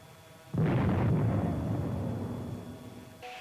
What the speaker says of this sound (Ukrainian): ворожа БМП просто вибухає від влучання нашої стугни